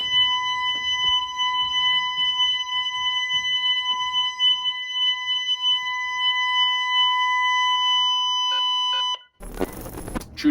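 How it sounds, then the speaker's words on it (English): A glass-break home security alarm sounds loud and steady, a sustained electronic tone with stacked harmonics running about nine seconds alone before cutting off into a burst of broadband noise. "if somebody tries to break the glass, it sets off an annoying loud sound"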